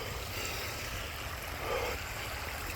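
A small stream of water flows steadily nearby outdoors, with a continuous broad rushing and trickling wash that holds an even level throughout, with no voices.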